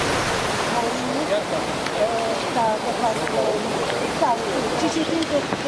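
A mountain stream in the Jasenská valley of Horehronie, Slovakia, rushing steadily with a broad, constant watery hiss, while someone talks over the flow close by.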